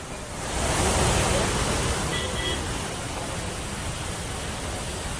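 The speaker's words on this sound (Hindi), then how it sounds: "आप पानी का वेग देख रहे हैं कि अभी तक ये वेग जो है कम नहीं हो पा रहा है।" Floodwater after a cloudburst at Sahastradhara near Dehradun rushes in a loud, steady, broadband roar that swells early and then holds constant without a break.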